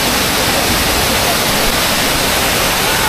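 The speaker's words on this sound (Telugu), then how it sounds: "ఇక్కడ చాలా ఉంది వాటర్ ఫాల్స్." Wide Tirathgarh waterfall pouring over rocks, a loud, dense, unbroken roar of rushing water filling the whole scene at close range.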